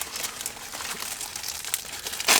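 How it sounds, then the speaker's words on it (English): A Forefathers cheesesteak with grilled steak, Cheese Whiz and grilled onions gets unwrapped from its paper wrapper, with close, crisp crinkling and rustling in quick bursts and a sharper tear at the end. "I guess the proper way would be to unwrap it totally, maybe?"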